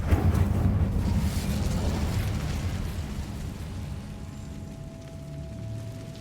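The Incendio fire spell in Hogwarts Legacy goes off with a loud, deep whooshing burst that roars at the start and then fades gradually into a low, crackling rumble with a faint tone underneath.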